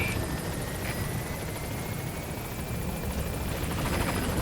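Helicopter arriving at a landing zone in Metal Gear Solid V: a loud, steady, close rotor roar holds throughout with no talking.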